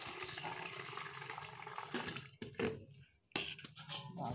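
Water sloshes and splashes in quiet, uneven bursts as banana stem and garden pumpkin greens are rinsed by hand, with short gaps between the bouts of swishing.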